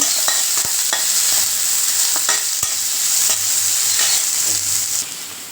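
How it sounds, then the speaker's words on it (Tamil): Steady sizzling of onions sautéing in hot oil with repeated stirring and scraping clicks in a pan, close and fairly loud, no voices. "போட்டு வெங்காயம் நல்லா வதங்கணுங்க"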